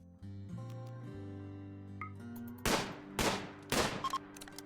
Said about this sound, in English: Okay, you shot him.